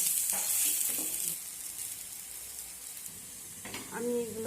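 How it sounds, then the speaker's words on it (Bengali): Pumpkin flowers and egg frying as fritters in a little oil give a steady, close sizzle that is loudest at the start, eases off in the middle and swells again near the end, with a few brief clinks and scrapes. "আমি এগুলো অল্প তেলে বড়া শেপে ভেজে নিচ্ছি।"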